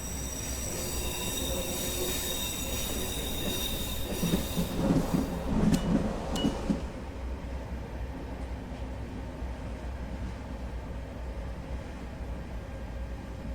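A BB22200 electric locomotive runs in Train Simulator on a French high-speed line near Lyon, giving a steady rail rumble with wheel squeal and rattling that swells around the middle, then settles into an even roll.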